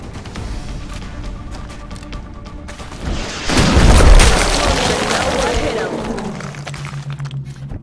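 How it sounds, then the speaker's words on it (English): A rocket explodes in the turn-based strategy game XCOM: Enemy Unknown, bursting as a loud, deep boom that rumbles and fades over several seconds amid other in-game sounds. "Now is a good time for the rocket."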